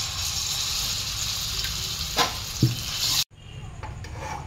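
Chana dal paste for halwa is stirred in warm oil, a close steady sizzle with a couple of spoon scrapes and a metallic knock before the frying sound abruptly drops out and returns fainter.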